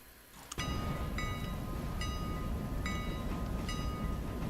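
Train rolling on rails in the Railroader video game, a steady loud rumble that starts abruptly with a click, with a high ringing tone and regular metallic ticks repeating about every second.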